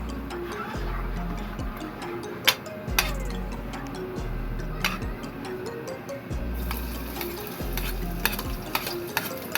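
Onion and garlic sautéing in a pan for mussel dish, a steady low sizzle with repeated scraping stirs of a utensil at a regular rhythm, no talking.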